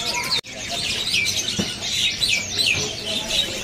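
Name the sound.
cucak kombo bird chirping in a shop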